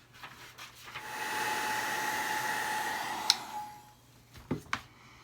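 A hot-air heat tool blows with a steady whirring hiss for a few seconds while embossing powder on a card is melted, then cuts off, followed by a few sharp clicks and taps.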